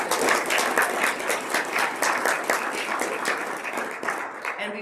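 A conference audience claps for a welcome address, a thick, sustained round of applause from many hands that holds steady and begins to thin toward the end.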